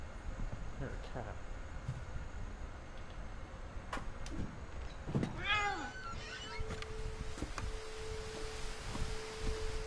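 A cat meows in the video game What Remains of Edith Finch, a short rising-falling call midway through, over soft game ambience with scattered ticks and a low steady tone.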